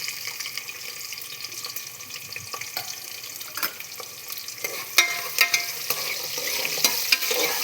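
Food frying in a pan, with onion being added, is stirred and mixed: a steady close sizzle carries repeated scraping clicks of the utensil, growing busier and louder toward the end, with no talking.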